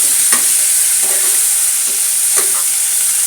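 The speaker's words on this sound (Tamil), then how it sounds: "கொஞ்சம் தக்காளி கொஞ்சம் கரையட்டும் நல்லா வதங்கட்டும்" Small tomatoes sauté in a pan for a cauliflower, potato and capsicum pulao, giving a loud, continuous sizzle broken by a few soft stirring scrapes.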